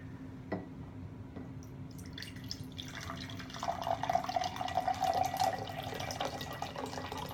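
Hydrogen peroxide pours into a container, starting with a few faint drips and building into a steady, quiet trickling stream that continues to the end.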